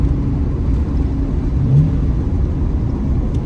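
A 2000 Ford Ranger with a 3.0-liter V6 and a stainless Dynomax Ultra-Flo cat-back exhaust drones with a steady low rumble that swells briefly in a mild rev and then settles back, heard close with no talking.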